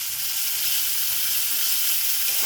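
Potatoes, brinjal, green chilli and tomato frying in hot oil, a steady close sizzle and hiss running unbroken throughout with faint stirring beneath.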